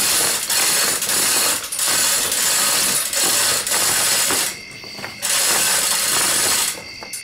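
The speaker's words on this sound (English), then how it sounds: "we're gonna pick up the front end using the chain hoist" A chain hoist lifts the front end of a Suzuki SV650-powered mini rock bouncer in a shop, with rapid, steady ratcheting clicks that pause briefly and then resume, close and loud.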